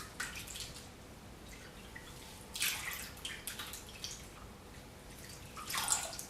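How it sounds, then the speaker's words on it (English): Hair extensions dipped into a basin of conditioner water give soft, faint sloshes and drips, with a few brighter splashes spaced apart over quiet background. "So we dip the hair extensions in."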